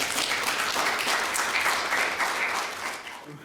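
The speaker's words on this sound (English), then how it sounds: "I call for a round of applause for them" A full audience at a League of Women Voters candidate forum applauds the candidates: dense, steady clapping from many hands that holds level and then begins to taper near the end.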